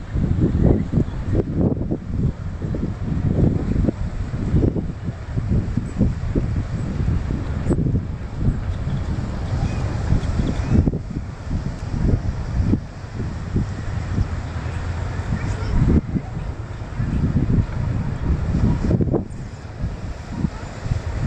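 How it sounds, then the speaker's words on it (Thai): Strong wind blows outdoors, buffeting the microphone in a continuous rough roar with gusty surges and brief dips, loud and close, with no talking. "ลมแรงมากเลยตรงนี้นะคะ"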